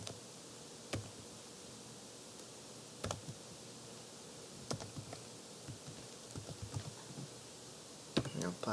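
Scattered computer keyboard keystrokes as a username and password are entered, with sparse, irregular clicks over a steady background hum and no speech.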